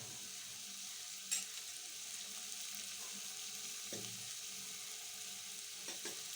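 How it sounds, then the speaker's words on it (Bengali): Chopped garlic hits hot oil, setting off a soft, continuous sizzle with a few small pops and clicks, fairly quiet and without talk. "এক টেবিল চামচ রসুন কুচি আমি দিয়ে দিচ্ছি।"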